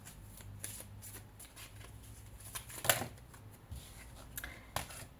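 Oracle cards shuffled by hand nearby, a soft papery rustle with scattered sharper slaps and one louder snap near the middle, over a low steady background hum.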